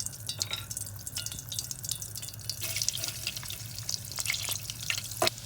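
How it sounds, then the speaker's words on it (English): Garlic sautéing in melted butter in a pan, a continuous wet crackling sizzle with light clinks of stirring, close and moderately loud, with no speech. "we're going to saute the garlic until it starts to release its aroma"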